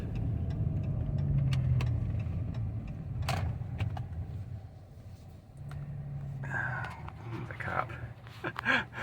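A car's engine idles with a low steady hum, joined by occasional clicks and ticks and brief bumps, while a person talks quietly over it.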